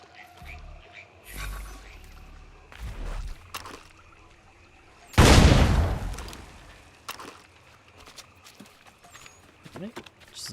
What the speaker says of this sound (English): Perhaps some gunpowder would move it. A nice big explosion, eh?